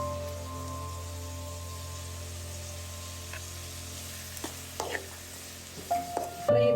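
Ingredients for an Onam ginger curry frying in a pan: a low continuous sizzle with a faint hum beneath, joined in the later seconds by scattered clinks and scrapes of a spoon against the pan.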